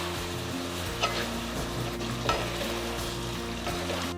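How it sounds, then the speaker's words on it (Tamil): Chicken drumsticks being stirred into sauce in a pan for Korean fried chicken, a close sizzle with clacks of the spoon against the pan and wet sliding sounds as the pieces turn. "இப்போ இருக்கிற இந்த ட்ரம் ஸ்டிக் போட்டுக்கலாம். நல்லா மிக்ஸ் பண்ணிக்கலாம் ஃபுல்லாக மேலே கீழே."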